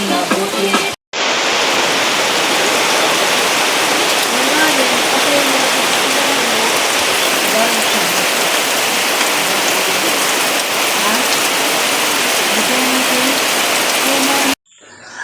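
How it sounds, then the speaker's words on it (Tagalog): Steady, loud rainfall pouring down continuously, a dense hiss of drops on surfaces that stops abruptly near the end, with faint voices underneath. "Umuulan"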